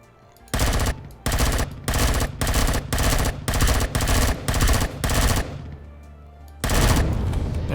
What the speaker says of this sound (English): Oh, Jesus, thing's shooting at me already.